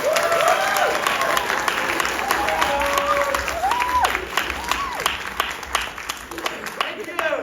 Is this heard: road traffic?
no